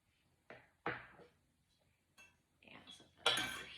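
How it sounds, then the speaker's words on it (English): Knife cutting homemade pasta dough into quarters on a board, a few separate soft chops and scraping knocks spaced over a few seconds, quiet and close. "Cut this into quarters."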